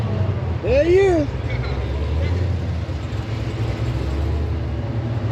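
Car fitted with a new 426 Hemi engine idling with a steady low rumble, a brief rising whine or squeal near the start, and a voice over it.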